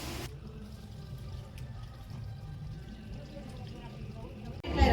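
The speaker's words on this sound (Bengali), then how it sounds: "আমি সেই সুযোগে চট করে মাংসটা ধুয়ে নিচ্ছি ভালো করে" Running tap water splashes steadily over goat meat being washed in a home kitchen, a continuous close wash of flowing water with a louder clatter at the very end.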